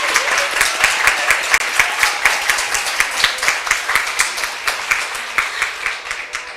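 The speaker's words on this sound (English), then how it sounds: "Let's give them a round of applause." A crowd at a cosmetology costume showcase applauds the judges, loud close-up clapping with distinct individual hand claps in a quick steady rhythm over a broader wash of applause that slowly fades.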